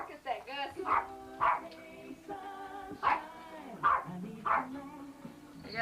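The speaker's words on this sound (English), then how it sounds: "I got a house full of dogs." Several dogs bark in a house, sharp yaps and barks coming in bursts, some close together and some spaced apart, with people talking throughout.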